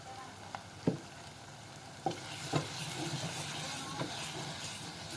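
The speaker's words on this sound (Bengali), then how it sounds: "এগুলো একটু আমি পেঁয়াজের সাথে মিক্স করে নিচ্ছি" Mixed spices stirred into fried onions in a pan, a low simmering sizzle with a handful of sharp spoon clacks against the pan spaced across the clip, fairly quiet and close.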